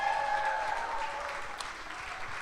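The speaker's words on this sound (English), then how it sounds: "One more round of applause." Audience applause at a live Green Bay Packers Clubhouse event, a steady wash of clapping from a crowd throughout, with a brief voice fading out at the start.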